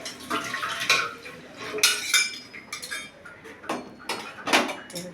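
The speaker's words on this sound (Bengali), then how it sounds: "এই যে আমি একটু তেল দিয়ে দিলাম" Cooking oil goes into a pan for a vegetarian Malabar spinach dish, heard as a few close clinks and scrapes of cookware with a light splashing hiss, no talking.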